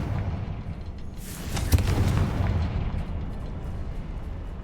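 A fiery Confringo explosion spell in Hogwarts Legacy erupts with a loud booming burst over a rumbling cavern ambience, flaring briefly and then fading into a sustained roar.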